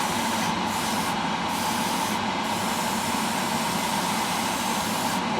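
An airbrush sprays paint onto a part of a 1/6-scale Tamiya Yamaha YZ250 model motorcycle, a close, steady hiss that runs throughout with only slight dips.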